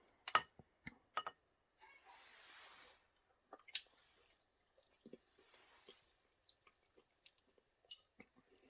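Someone chews a bite of cheesy au gratin potatoes with onion, close and quiet: soft wet smacks and clicks in an irregular rhythm, with a short breathy rustle in between.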